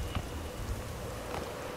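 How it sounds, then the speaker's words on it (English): Steady rain in the video game Generation Zero, a soft, even wash of falling drops with no voices or other sounds. "And this time it's definitely rain, not snow"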